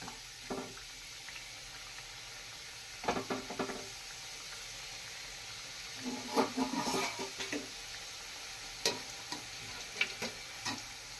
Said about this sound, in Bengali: এবার আমি একে ভাজবো, একটা একটা করে দিয়ে আমি ভাজবো